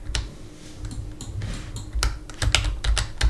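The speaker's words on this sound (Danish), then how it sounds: "Så klikker jeg bare F rigtig meget" Rapid, irregular clicking of a computer keyboard as the F key is pressed over and over while playing Roblox Islands, close and crisp, with bursts of quick taps and no talking.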